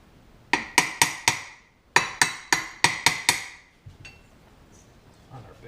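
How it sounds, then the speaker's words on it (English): A hammer taps a motor bearing back into place on a PM727 milling machine, giving two close, sharp series of metallic strikes, four blows then six, each ringing briefly before the next, with quiet shop noise afterward. "we have to tap this back in"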